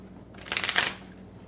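A deck of Magic: The Gathering playing cards is given a quick riffle shuffle, a single brief burst of crisp fluttering close by, with quiet before and after.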